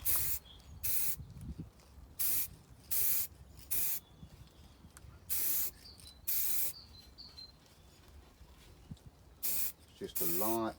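Short bursts of aerosol spray paint lay a light top coat on Raleigh Burner BMX parts, roughly a dozen close, loud hissing puffs separated by brief pauses, with faint handling noises in between.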